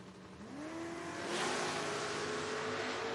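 Drag race cars launch at a footbrake race, their engines climbing in a loud rising roar that builds and sustains as they pull away down the strip, with crowd and track noise behind.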